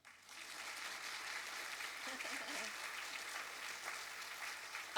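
Audience at a public panel event on youth mental health, sustained applause filling the room for several seconds at an even, moderate level, with a few voices murmuring underneath.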